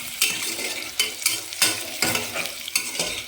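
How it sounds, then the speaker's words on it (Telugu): Onions and green chillies fry in a pan while being stirred, with a constant sizzle broken by sharp scraping strokes of a spoon against the metal roughly every half second, close and clear, no voices. "ఇదిగోండి ఆనియన్స్ పచ్చిమిర్చి కూడా వేసేసుకుంటున్నాను. ఇవి బాగా ఫ్రై చేయాలండి."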